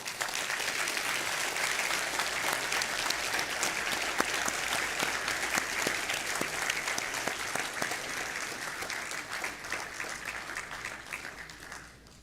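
Sustained applause from an audience at a sheriff's office awards ceremony honoring corrections deputies, a dense, even clatter of many hands lasting about twelve seconds before tapering off.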